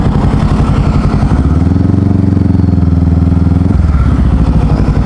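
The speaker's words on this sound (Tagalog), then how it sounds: "binalahura naman tayo ng mga motor, pwede palang ganun" Motorcycles ride along a well-lit road near New Clark City in the Philippines, their engines making a loud, steady drone with a deeper harmonic stretch in the middle as one passes close, with no talk over it.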